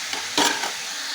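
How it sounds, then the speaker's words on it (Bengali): Beans and cabbage are dropped into a hot pan and fry, giving a short loud hiss and sizzle as they go in, then a steady frying crackle, close up with no talking. "দিয়ে দিচ্ছি শিম, এবার দিয়ে দিচ্ছি বাঁধাকপি"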